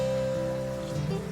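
Water streaming beside a boundary wall next to a Mumbai playground after heavy rain: a constant, moderately loud rushing flow with a low hum underneath, no voices.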